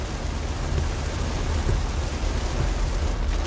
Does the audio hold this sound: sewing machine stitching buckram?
no